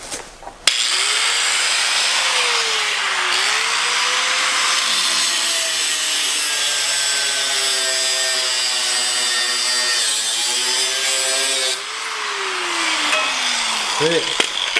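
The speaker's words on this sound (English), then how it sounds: "So we're going to cut our old piece off." A power tool cuts off the old steering piece on a lifted 420cc off-road go kart, giving a loud, sustained metallic whine that shifts in pitch for about eleven seconds before cutting out.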